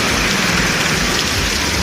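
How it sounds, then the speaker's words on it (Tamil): Heavy rain pours steadily in Karaikal, Puducherry, during a prolonged downpour, a dense continuous hiss of rain on surfaces, loud and unbroken throughout. "புதுச்சேரிக்கு உட்பட்ட காரைக்காலில் தொடர்ந்து 7 மணி நேரம் மழை கொட்டியது."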